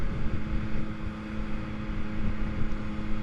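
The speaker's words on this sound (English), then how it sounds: "It's a nice little cruise on this bike." A 2021 Yamaha MT-09 motorcycle cruising on a winding road, steady engine drone with a constant low hum and wind rush over the microphone, close and continuous with no voices.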